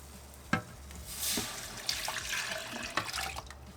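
Flour and cold milk are stirred into melted butter in a pan for a lasagna sauce, giving soft liquid swishing and a few sharp spoon taps against the pan, close and quiet, with no talking.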